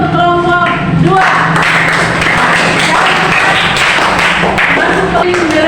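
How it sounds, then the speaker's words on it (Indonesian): Classroom applause for a student group: many hands clapping together in a dense, loud burst that continues steadily, with some voices mixed in. "Tepuk tangan dulu untuk kelompok 2"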